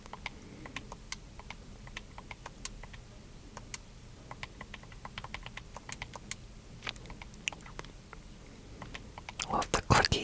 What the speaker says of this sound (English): Love the clicky D-pad sounds are one of your triggers, at least.